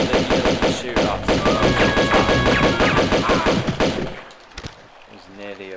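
Gunfire during an ambush in Tomb Raider II, a dense burst of rapid shots rattling loudly for about four seconds, then a few scattered thuds as the firing dies away.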